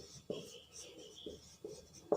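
Writing a letter address on a board: soft scratchy strokes with a few sharper taps, close and quiet, in short bursts with gaps between.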